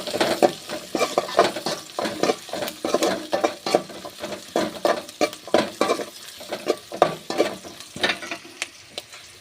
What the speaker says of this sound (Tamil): இதோட கொஞ்சம் பூண்டு போட்டுக்கலாம்ப்பா.